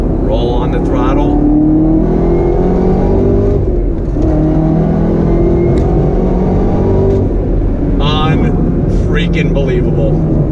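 A 2019 Chevrolet Camaro ZL1 1LE V8 pulls hard on a track, its engine note climbing through the revs with gear changes, loud and close, while someone talks over it.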